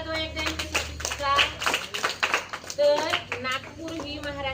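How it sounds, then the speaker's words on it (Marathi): Children clap together at a quiz competition in a village Zilla Parishad primary school, a burst of scattered hand claps mixed with young voices talking. "टाळ्या वाजवा एकदा यांच्यासाठी सुद्धा."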